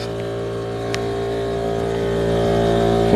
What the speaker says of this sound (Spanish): perdonen el ruido del compresor